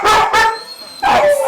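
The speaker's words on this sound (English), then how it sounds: "Looks like a little farm dog" A small farm-type dog at a Wisconsin Humane Society animal shelter barks loudly and close by, giving three sharp barks in quick succession with a short pause before the last.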